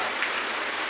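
Steady rain falling in monsoon weather, a dense even hiss of drops with no pauses, close and moderately loud throughout.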